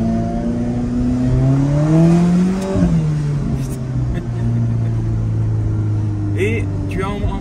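An Alfa Romeo engine in race mode, running fresh competition oil and a new oil filter, revs loud and near with rising and falling pitch, while someone talks over it throughout.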